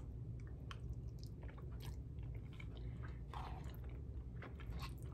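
Someone chews a bite of cooked dollar store broccoli close to the mic, with soft, steady crunching and squishy mastication running continuously for several seconds and no talking.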